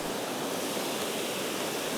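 Steady broadband rush of a waterfall at the upper limit of a Swedish river, an even, continuous roar heard alone at moderate level with no voices.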